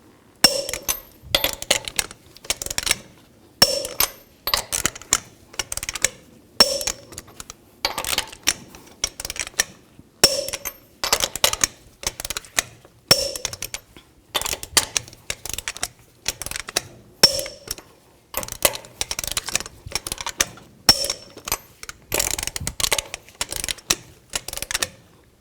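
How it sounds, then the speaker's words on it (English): A torque wrench tightens the lug nuts on a Ford E-series van wheel. Rapid ratcheting clicks come in repeated short bursts, each ending in a sharper snap, loud and close with brief pauses between, and no talking. "Now torque these lug nuts to 148 foot-pounds in a cross pattern to tighten the wheel down evenly."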